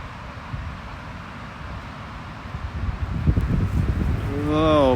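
Cold wind blowing outdoors, rumbling and buffeting against the microphone in uneven gusts that swell louder toward the end, with a voice breaking in at the close.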